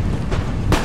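A musket volley crashes out in Empire: Total War, a sharp booming burst of massed fire with a second louder crack near the end, over continuous battlefield rumble.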